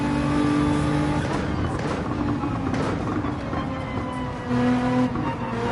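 A race car in Gran Turismo 7 accelerating hard out of a corner, its engine droning and climbing in pitch with steady revving and brief gear changes, loud and close, with faint tire noise.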